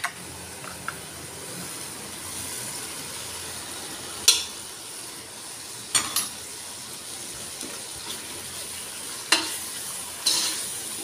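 Spices roasting in oil in a pan for a Kokni-style mutton salan, with a soft continuous sizzle and a few sharp spatula scrapes and clinks against the pan, close and fairly quiet.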